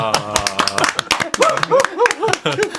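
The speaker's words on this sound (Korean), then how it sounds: "일어서서 박수 치겠습니다" People in a radio studio clap in a burst of scattered, close applause mixed with excited talk and a loud cheer over the top.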